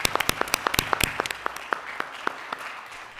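A small group claps at a school board meeting, with sparse distinct handclaps in an uneven rhythm that thin out and fade over a few seconds.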